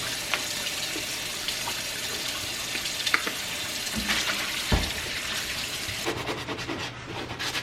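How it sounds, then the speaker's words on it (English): Hot water runs steadily from a tap into a kitchen sink, a continuous hissing splash with a few clinks and knocks along the way. "I'm going to run some water in the sink, get it good and hot and sudsy"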